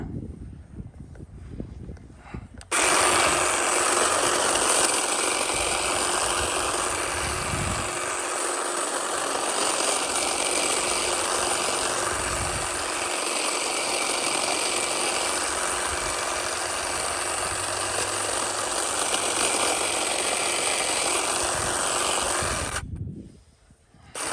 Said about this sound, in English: I'm going to trim this hedge right here.